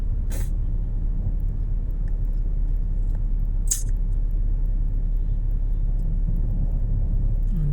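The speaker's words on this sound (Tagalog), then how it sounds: "Traffic talaga mga idol." Heavy Pasay road traffic rumbles steadily and close, idling vehicles blending into a continuous low drone, punctuated by two short sharp hissing bursts like air brakes.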